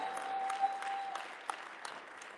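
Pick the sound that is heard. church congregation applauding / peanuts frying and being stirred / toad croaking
church congregation applauding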